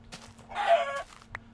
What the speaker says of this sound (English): Ooh, another chicken.